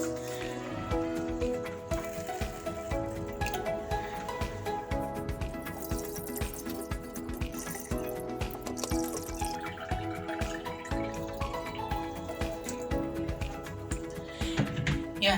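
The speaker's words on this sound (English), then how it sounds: "So I'm also going to wash my rice before I boil it." About two cups of rice being washed in water before boiling, with steady dripping and splashing running the whole way through over a tonal background.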